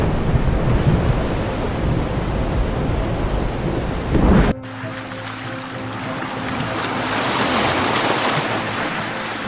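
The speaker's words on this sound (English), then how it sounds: "You can see the enormous waves crashing onto the shore." Huge storm waves from Hurricane Otis crash onto the Acapulco shore in a loud, continuous roar that breaks off abruptly midway and resumes as a different, steady churning wash, with no voices.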